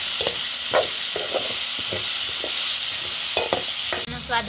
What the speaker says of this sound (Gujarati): હવે બધું મિક્સ કરીને આપણે હલાવી દેવાનું છે